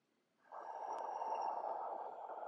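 A single slow, deep yoga breath, drawn long and steady through the nose, heard close and soft against near silence.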